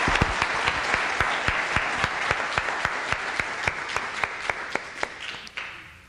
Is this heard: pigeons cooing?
no